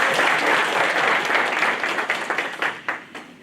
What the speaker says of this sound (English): Let's applaud them for this.